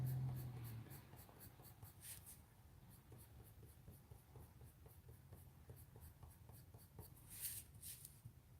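Prismacolor colored pencil strokes on paper while shading the light areas of hair in a drawing: soft repeated scratchy scribbling in a quick steady rhythm, close and quiet, with no voice.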